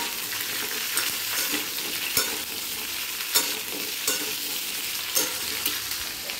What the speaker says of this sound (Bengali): ভালো করে সব সবজিগুলো একসঙ্গে তেলের মধ্যে ভেজে নেব